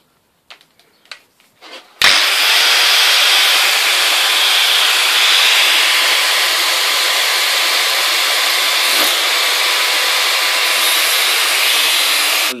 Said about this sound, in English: you have to put the cutting blade on. Just do that now.